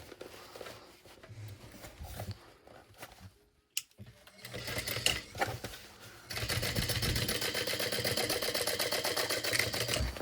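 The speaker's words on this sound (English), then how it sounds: "I'm going to top stitch on the side panel piece, not on the bottom gusset piece." A sewing machine top stitches the side panel of a backpack, starting with short bursts and then running in a fast, steady, loud mechanical rattle. Fabric shuffles and handling noises come before it, and no one speaks.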